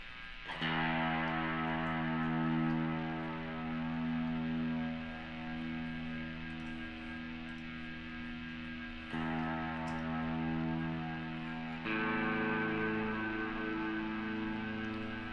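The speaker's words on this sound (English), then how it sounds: "Let's get some reverb going a little bit more here." Sustained Epiphone Special electric guitar chords with reverb wash out in a spacious, lingering tone, changing twice as new chords are struck, with no voices.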